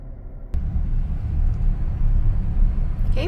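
A car sets off along a road, a low engine and road rumble kicking in abruptly and then rolling on steadily and close for the rest of the moment.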